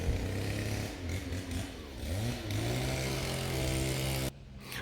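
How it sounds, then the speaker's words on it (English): A chainsaw engine runs loudly with a rough buzzing drone, revving and dipping in pitch before cutting off abruptly near the end. "you can hear that chainsaw started going"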